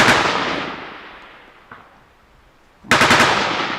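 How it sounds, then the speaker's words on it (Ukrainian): Bursts of rapid gunfire from a tree line about 400 metres away crack out, a loud volley fading away, a faint shot, then another sharp rattling burst at close range. "У нас стріляють з посадки"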